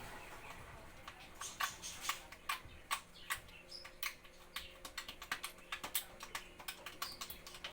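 Soft, sticky clicking and popping sounds come in quick irregular bursts as slime mixed with coffee powder is squeezed and pressed close up, with no talking.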